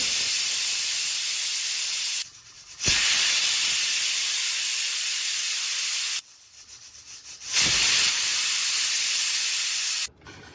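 Loud, steady hiss of steam venting from a pressure cooker whistle while mutton curry cooks, cutting off briefly twice before resuming, close and continuous.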